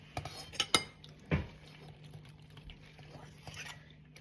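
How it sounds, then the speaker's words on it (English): Cooked mostaccioli noodles go into a baking dish for a layered baked pasta. A few brief clinks and clatters of utensil against dish stand out near the start, followed by soft faint shuffling. "And now we're gonna put the noodles in."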